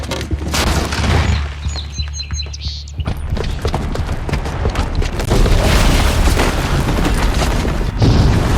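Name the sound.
bomb explosion in video game Horizon Zero Dawn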